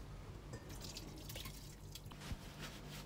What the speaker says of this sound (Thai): เราก็นำมากรองเอาน้ำออกค่ะ